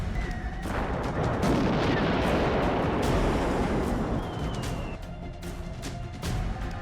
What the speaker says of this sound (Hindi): अचानक एक ऐसा धमाका कि धरती कांप उठी